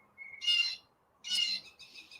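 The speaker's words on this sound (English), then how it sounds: "And lots of birds." Birds chirp in two loud, bright bursts outdoors on a sunny, chilly day, followed by softer trailing calls, with no talking.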